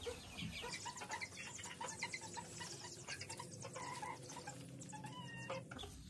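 Chickens in a coop give soft, scattered clucks and murmurs, fairly faint with a low background hum and no talking.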